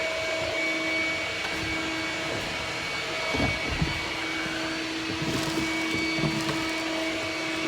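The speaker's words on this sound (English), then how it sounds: "I'm gonna vacuum this crap out" A vacuum cleaner runs continuously inside a 1978 Chevy Camaro, sucking up debris with a steady, loud motor whine and occasional rattling gulps as material is pulled through the hose.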